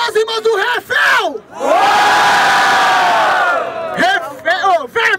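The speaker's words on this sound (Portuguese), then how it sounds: "Barulho pra cima do Refel" At a rap battle in Barueri, São Paulo, the crowd erupts in loud cheering and yelling for an MC, a roaring surge of about two seconds, with an announcer shouting just before and after.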